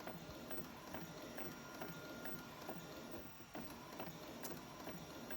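A printer runs steadily at close range, a continuous mechanical whir with regular ratcheting clicks and gear rattle repeating throughout, with no voices.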